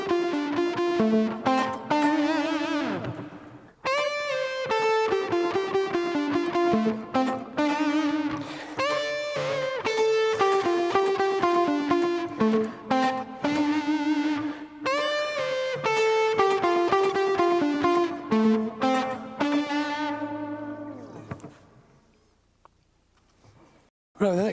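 Electric guitar with distortion picks out a saxophone riff, with sustained melodic phrases, slides and a brief pause near the start, fading out at the end.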